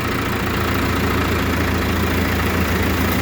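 Farm tractor engine running a feed-grinding machine, a steady loud low-pitched drone with a constant mechanical whir, unbroken and close, with no voices over it.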